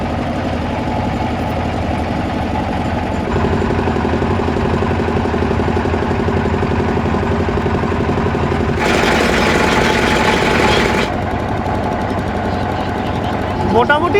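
A motorboat engine drones steadily during a ride on the Ganges at Varanasi past Manikarnika Ghat, a constant close hum and vibration that briefly turns harsher and noisier partway through.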